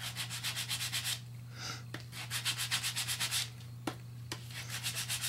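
A dark gray sanding block rubs back and forth over raised metal, a steady close scratchy rasp in quick regular strokes with a couple of sharp ticks and brief pauses, no talking.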